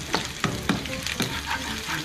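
Garlic hits moderately hot oil in a pan and fries with a steady close sizzle, punctuated by several sharp clicks and scrapes of stirring.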